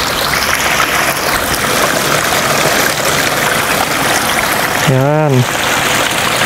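Cold spring water pours out of rock beside a mountain road in Pangasinan, a loud, steady rushing close by with no break. Someone says a single short word near the end.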